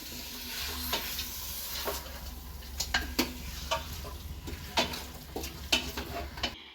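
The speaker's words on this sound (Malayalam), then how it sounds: "നല്ലപോലെ ഒരു രണ്ട് മിനിറ്റ് ഇങ്ങനെ ഒന്ന് മിക്സ് ചെയ്ത് ഇളക്കി കൊടുക്കണം" Marinated beef being stirred in a hot pan for meat rice, a steady sizzle under repeated sharp scrapes and taps of the spoon against the pan, close and fairly loud, no talking.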